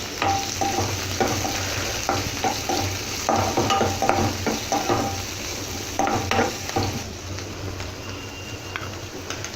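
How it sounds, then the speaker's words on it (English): Chopped onions fry in a pan for a vermicelli snack, giving a steady, close sizzle broken by repeated scraping stir strokes over about ten seconds, with no talking. "We're going to add some chopped onions. Fry it a little bit."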